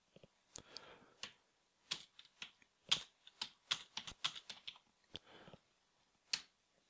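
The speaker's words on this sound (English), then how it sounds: "So I've typed in some values," Values are typed on a computer keyboard: soft, irregular clicks of individual keystrokes in short bursts with pauses between, faint and close.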